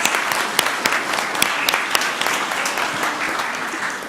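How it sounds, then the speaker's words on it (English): People at a city council meeting in Columbus, Georgia, clap loudly after the Pledge of Allegiance, a close, energetic burst of many hands with sharp individual claps popping out of the steady patter. "let's give them a big round of applause"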